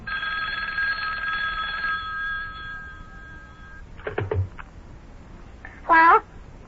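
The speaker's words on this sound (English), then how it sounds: "Uh-oh, telephone's ringing again." A telephone bell rings loud and steady for about two seconds as a radio drama sound effect, trailing off, followed by brief clattering handling noises and a short high sound near the end.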